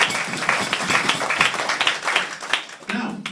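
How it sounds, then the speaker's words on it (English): Wedding guests at the Tower House give the venue staff a round of applause, a short burst of fairly close, brisk clapping that fades slightly toward the end. "so please give them a big round of applause"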